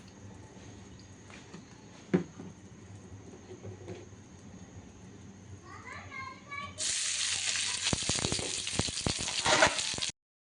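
Olive oil in a wok on a stove: a quiet kitchen hum and a few clinks, then a sudden loud, close sizzle that crackles steadily until it cuts off.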